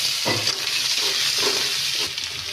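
Onion drops into hot oil with green chilli in a pan for a potato and cauliflower curry, bursting into a crackling sizzle with stirring scrapes, close and steady, with no voices.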